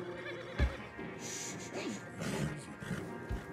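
A horse in Red Dead Redemption 2 gives a loud, close whinny with rising and falling pitch, after a single sharp knock near the start, with a faint low voice murmuring in the background.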